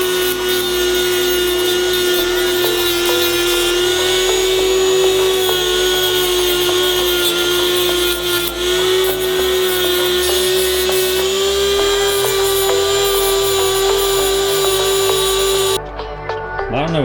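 A Dremel rotary tool with a stone wheel polishes a part of a Subaru EJ207 engine, giving a loud, steady high-pitched whine that runs almost without a break before cutting off near the end.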